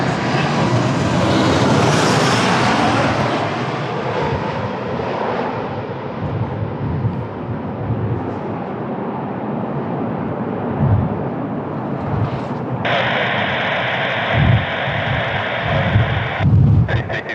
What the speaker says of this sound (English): I can show you the full takeoff on the next TAP Portugal